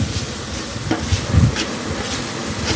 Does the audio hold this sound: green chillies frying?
yes